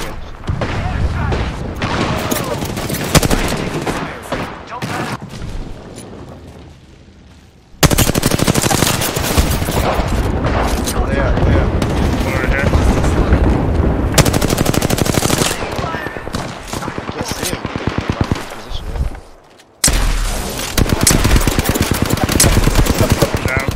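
Loud, sustained machine gun fire in a video game, in long rapid bursts that break off sharply twice, with talking mixed in over the shooting.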